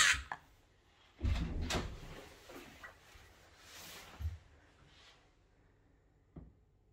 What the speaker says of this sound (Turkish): Dur sen şu kapıyı aç.